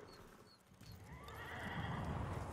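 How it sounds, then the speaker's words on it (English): Horses in the video game Ghost of Tsushima snort and whinny up close, with hoof clip-clop and a rising, steady rustling ambience beneath them. "The horses huffing and puffing."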